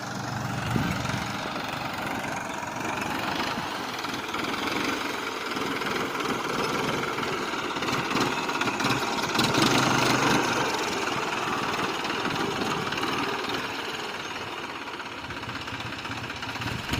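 A Thai tractor engine idles steadily through the whole stretch, a continuous mid-pitched knocking rumble at moderate distance, with no voices over it.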